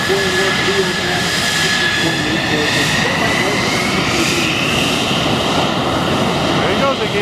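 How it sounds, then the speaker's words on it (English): A post-World War II North American aircraft flies past at an air show, its loud engine roar steady and sustained throughout, with a slowly shifting pitch as the plane passes. "Post-World War II aircraft."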